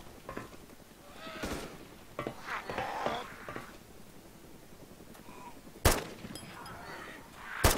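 Gunfire from the player's weapon in DayZ Epoch cracks out as a few sharp isolated shots spread across a muffled, rumbling background, with the loudest report near the end.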